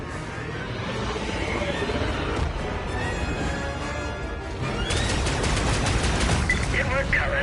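Sustained blaster and gunfire in Star Wars Outlaws, rapid continuous bursts that grow denser and louder toward the end, close and dominant, with a voice briefly underneath.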